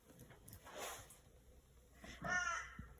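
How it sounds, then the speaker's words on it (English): Neighbourhood crows caw outdoors in a few rough, hoarse calls, with the loudest near the end, moderately distant against quiet background noise. "I've got a lot of very noisy birds in my neighbourhood."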